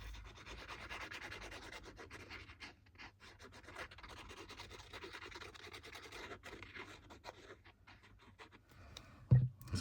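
Glue being spread inside a paper pocket tag, a soft, steady close-up rubbing and scraping that runs continuously and quietly, with a brief louder knock near the end.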